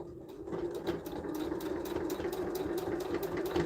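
A sewing machine runs a steady basting stitch to join strap ends for a sling bag, a close continuous whirring hum with a rapid even rhythm of needle strokes.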